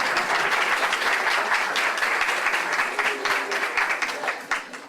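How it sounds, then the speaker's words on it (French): A cabaret-evening audience applauds a sketch director with dense, continuous clapping that holds steady for nearly five seconds before thinning slightly, with no one talking over it. "Oui, applaudissez-le."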